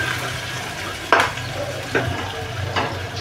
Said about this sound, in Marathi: हे जरा थोडं आपण 2 मिनटं फ्राय करून घेऊ